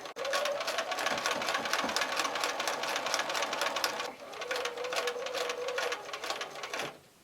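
A sewing machine stitches quilting fabric in rapid, even mechanical pulses, running steadily close up with a brief pause midway, then resuming before stopping.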